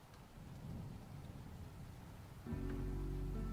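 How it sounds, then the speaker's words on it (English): Rain and thunder ambience in a song, a low rumbling wash of thunder and steady rainfall that swells louder partway through as a low droning tone enters, with no voices. "Ooh, the rain ambiance."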